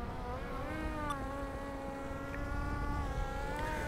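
Electric skateboard motor (MAXFIND FF-PLUS all-terrain board) straining at full power while bogging up a hill: a steady, loud whining hum with rising and falling tonal pitch that persists throughout, with no talking.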